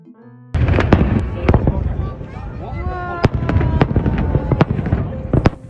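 A New Year fireworks display in a city center booms and crackles continuously, with sharp loud bursts, dense popping and whistling streaks over a steady crowd roar, after a brief quiet lead-in.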